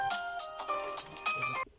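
A mobile phone ringtone plays a short bright melodic tune of rising and falling tones, close and clear, ending abruptly.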